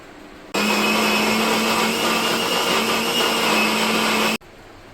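A kitchen blender grinds mango paste with sugar in one loud, steady whirring run of almost four seconds that starts and stops abruptly, with no talking.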